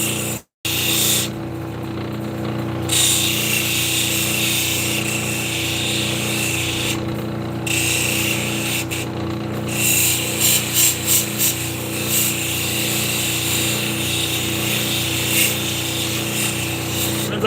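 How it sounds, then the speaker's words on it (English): A lapidary grinding wheel at 1200 grit works a very hard stone, giving a steady, loud motor whine and wet grinding hiss throughout, briefly cut off near the start, with short pulsing bursts later on. "So I went from the 600 grit wheel, now I'm up to the 1200 grit wheel."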